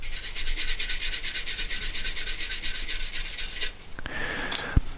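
A paintbrush with most bristles cut off for stiffness scrubs out holes in green wood during woodturning, a fast rhythmic rasping rub, loud and close, stopping near the end with a few faint knocks.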